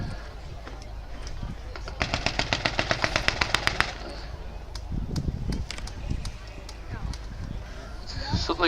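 Machine gun in a tank turret firing a rapid burst at a wartime reenactment, a sharp regular run of shots at mid distance, with scattered pops and crowd noise before and after.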